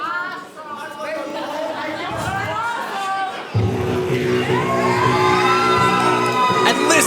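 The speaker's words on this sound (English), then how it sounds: "And listen to the crowd!" A crowd at a live wrestling show in Bacchus Marsh, Australia, cheers, whoops and shouts loudly. Entrance music starts partway through and joins the noise.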